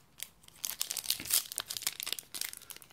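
A Yu-Gi-Oh Elemental Energy 1st Edition booster pack wrapper is torn open, a close, loud burst of crinkling and ripping foil in quick uneven bursts with no talk.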